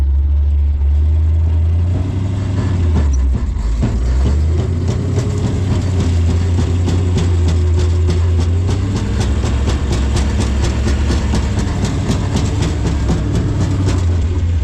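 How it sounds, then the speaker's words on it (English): A car with a broken driveshaft rolls along, its low engine and drivetrain drone carrying a rapid, regular knocking against the body that repeats in step with the turning shaft, loud and close throughout. "It feels like something is hitting the body at the same speed the drive shaft is turning."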